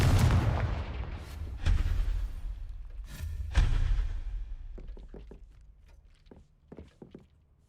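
A Confringo fire spell blast in the Hogwarts Legacy video game: a few loud booming impacts in the opening seconds, then a scatter of lighter clicks and thuds as the blasts fade.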